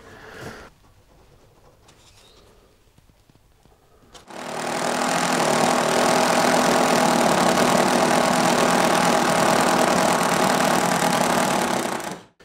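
An electric drill bores through a tube in a garage to run electrical wiring. After a few seconds of quiet, it starts abruptly and grinds loud and steady for about eight seconds, then cuts off.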